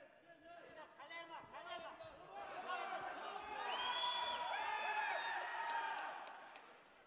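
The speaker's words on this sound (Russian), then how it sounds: "больше шума, больше аплодисментов" A crowd at a professional fight event cheers, whoops and shouts, building from scattered voices into a louder roar of cheering in the middle before easing slightly, with chatter mixed in.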